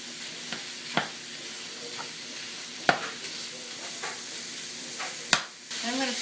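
A pound of hamburger browning in a large skillet, a constant sizzle broken by several sharp spatula taps and scrapes against the pan, close and with no talk.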